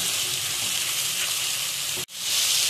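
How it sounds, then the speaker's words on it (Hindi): Chopped tomatoes hitting hot oil with ginger and garlic in a pan for mutton keema, a loud, close, continuous hiss of sizzling that dips sharply for a moment then surges back, no talking. "अब हम इसके अंदर 3 टमाटर चॉप किए हुए ऐड करेंगे और इसको भी अच्छे से भून लेंगे।"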